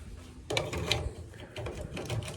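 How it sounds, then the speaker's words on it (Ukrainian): DREVOS smokehouse switching on with a click followed by a mechanical whir and rattling hum that carries on steadily, close by. "Включаємо коптильню"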